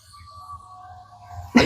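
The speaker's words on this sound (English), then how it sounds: "somebody coughs in the background" A single sharp cough breaks out in the background of a home kitchen near the end, brief and moderately loud over low cooking hum.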